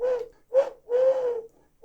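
A person imitates a pigeon cooing with three low, throaty coos in a close, uneven rhythm, the middle one the longest, and no other sound.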